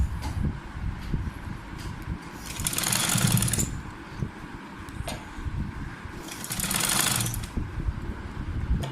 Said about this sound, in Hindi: अब ये जो फोल्डिंग है, फोल्डिंग की किनारी के ऊपर हमने इस तरह सिलाई लगानी है।